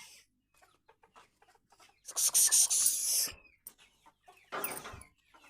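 Chickens cluck and squawk in two loud bursts, separated and surrounded by quieter scattered clucks and rustling.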